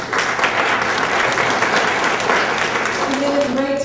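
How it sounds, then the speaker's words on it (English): Audience applause fills a meeting of a homeless task force, a steady dense wash of clapping that holds for several seconds before thinning as a voice begins talking near the end. "A round of applause for these folks"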